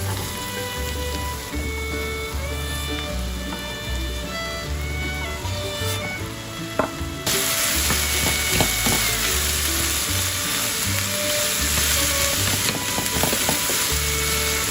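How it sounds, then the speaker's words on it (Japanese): Ground meat stir-frying in a pan with paprika, shiitake mushrooms and soybeans, a continuous close sizzle that grows louder and brighter partway through, with occasional scraping and clicks and no talk. "ひき肉がこんがり焼けてきたら、崩しながら炒め、パプリカ、椎茸、大豆を加え、"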